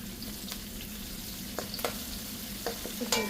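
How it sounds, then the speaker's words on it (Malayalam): Garlic and green chili frying in a pan of oil for tomato rice, a constant soft sizzle broken by scattered clinks and scrapes of a stirring spoon. "ഇനി നമുക്കിതിലേക്ക് വെളുത്തുള്ളി ഇട്ട് കൊടുക്കാം."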